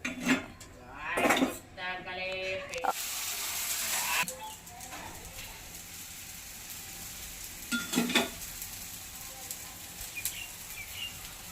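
Mixed-flour thalipeeth cooks on a griddle, with clinks of a utensil against the pan, stirring and a faint sizzle in short bursts and a quieter steady hiss between them, close by.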